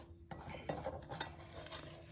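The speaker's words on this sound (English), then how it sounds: "we just want to stir the corn syrup and the sugar together some" Spoon stirring corn syrup and sugar together in a bowl for microwave cashew brittle, giving soft irregular scraping and clinking against the bowl over a couple of seconds, fairly quiet and close.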